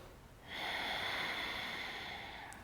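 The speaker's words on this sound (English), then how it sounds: "Take one more big breath in." Deep breathing during a prenatal yoga session: one long, steady, airy inhale or exhale, close and soft, starting after a brief quiet moment.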